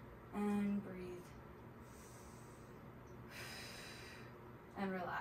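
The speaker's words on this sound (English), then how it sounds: "And breathe." A person breathes deeply while holding a hip stretch, giving a faint, soft drawn-out exhale in a quiet room, with brief voice sounds at the start and end.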